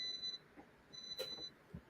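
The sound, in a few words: kitchen timer beeping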